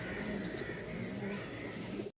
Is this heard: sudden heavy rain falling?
no